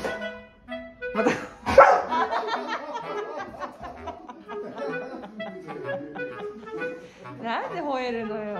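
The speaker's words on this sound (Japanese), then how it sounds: "なんで吠えるのよ。" A dog barks a few times with sharp, close yips among people talking and chuckling at home while an older man plays soccer with it.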